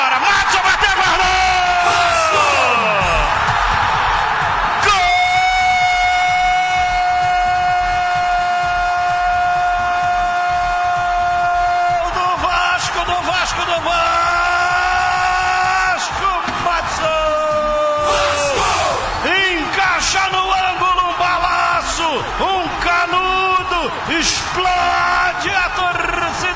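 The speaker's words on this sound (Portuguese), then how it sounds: "Explode a torcida em São Januário" A football crowd at São Januário erupts after a goal in a 2008 Vasco v Atlético-PR match: a roaring stadium bed sits beneath a commentator's long, excited, sustained shout and continued fast, animated talk.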